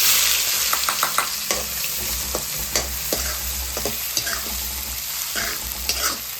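Onions sizzle and crackle as they fry in hot oil with cloves and black pepper for a kaju masala, under a steady hiss broken by sharp stirring clatters. No one speaks.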